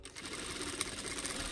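A sewing machine stitches quilted padding fabric, sewing diamond quilting through fabric bonded to fusible batting. It runs with a continuous close whir and faint rhythmic mechanical ticking, and no one speaks.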